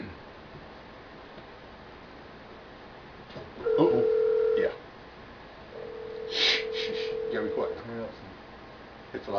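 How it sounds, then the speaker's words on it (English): A telephone rings out twice over a live call, each steady electronic tone lasting about a second or two, with background noise and faint talk between them. "Uh-oh, we're dialing."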